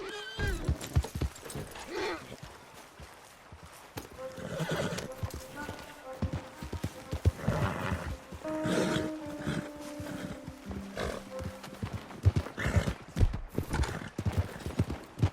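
Horses in Red Dead Redemption 2 clip-clop steadily on the ground and whinny now and then, close and clear, with someone talking over the hooves.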